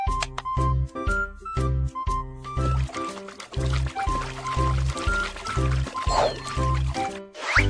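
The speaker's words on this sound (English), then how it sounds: "Insert the oil gun and fuel the car." Cartoonish fuel-pouring effects play in a children's car mechanic game while a car's tank is filled, with a looping bouncy music track and a bubbly liquid sound near the end.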